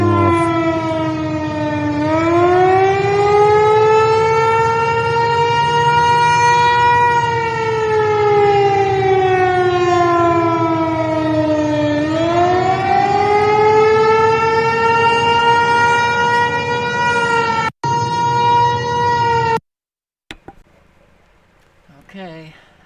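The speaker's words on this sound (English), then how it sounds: "Currently, tornado sirens are sounding off." Tornado warning sirens wail across Nashville, Tennessee, loud and sustained with slow rising and falling pitch sweeps, cutting off abruptly near the end.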